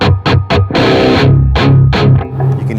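Heavy distorted electric guitar through a Mesa Boogie JP-2C tube amp's crunch channel plays tight, chugging low chords with short palm-muted stabs at first, then longer sustained crunchy notes, loud and close.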